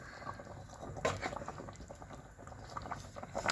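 A saffron meat stew with a potato added simmers in a pot and thickens, giving a faint, quiet bubbling patter with soft irregular pops throughout.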